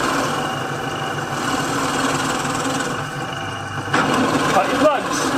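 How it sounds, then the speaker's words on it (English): A pillar drill motor hums steadily at close range while cutting wooden plugs, with a slight shift in pitch and load near the end. "you've got your pillar drill."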